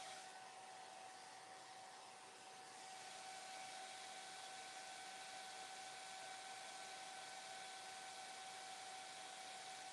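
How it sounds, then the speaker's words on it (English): A hair dryer blowing over a painting, a loud, steady, close whoosh with a constant motor whine that holds evenly from start to finish, no voices. "So I'm going to blow dry everything."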